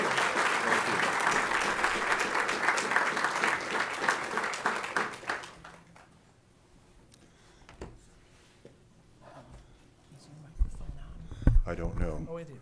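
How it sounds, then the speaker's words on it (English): An audience at an evening lecture claps warmly for about six seconds to welcome the lecturer, dense and steady before fading out, followed by quiet room tone and a few faint movements and sounds. "please welcome Jim Johnson with a warm round of applause for his lecture here tonight"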